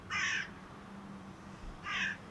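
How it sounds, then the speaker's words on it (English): A crow caws twice, two harsh short calls about two seconds apart, fairly clear over a quiet outdoor background with no talking. "you heard that crow"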